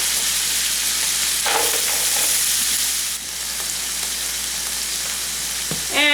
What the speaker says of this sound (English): let's go ahead and throw our onions and green peppers in there